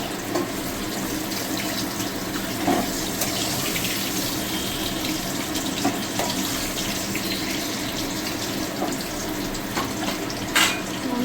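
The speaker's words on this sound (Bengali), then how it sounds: "আমার বেগুনটাও ভালো করে ভাজা হয়ে গেছে।" Eggplant frying in hot oil in a kitchen gives a steady, fairly loud sizzle with a watery hiss and occasional light clicks, continuous throughout and without voices.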